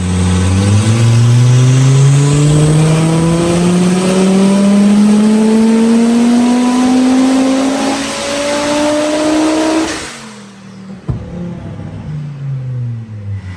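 Audi 2.5 TFSI turbo five-cylinder with racing cams on a dyno pull, the engine note climbing steadily and loudly for about ten seconds before cutting off, then a turbo blow-off and low idle rumble.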